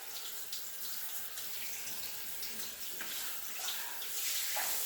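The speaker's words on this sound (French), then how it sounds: "On rince donc bien minutieusement pour qu'il ne reste plus de grains, de sel, de sucre" Running water from a tap rinses a salt and sugar body scrub off a leg, a steady broadband splashing rush that holds level throughout, with brief spattering bursts as the water hits skin and drains.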